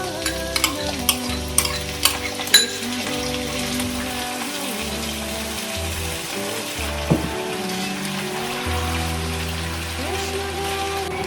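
Carrots, potatoes, drumsticks and peas fry in a pan for a Maharashtrian curry, a steady close sizzle with a few sharp clinks of stirring near the start and low background hum throughout.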